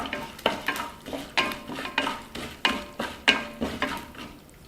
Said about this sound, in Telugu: ఇందులోనే మినప్పప్పు వేసుకుందాం ఇప్పుడు కొద్దిగా పచ్చిపప్పు వేసుకుందాం వీటిని బాగా కలుపుకుందాం